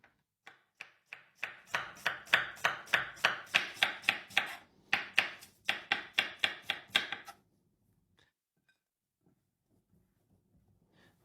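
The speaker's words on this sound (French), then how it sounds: "Je vais émincer mes oignons." Onions are sliced with a knife on a board in a rapid, even run of about twenty crisp close chops over several seconds, followed by near silence with a few faint taps.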